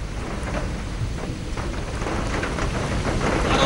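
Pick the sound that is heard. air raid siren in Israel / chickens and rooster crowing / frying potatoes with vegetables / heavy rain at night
heavy rain at night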